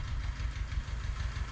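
A tractor engine idles steadily during potato planting, a continuous low, knocking rumble with a faint mechanical rattle, close and even, with no voices.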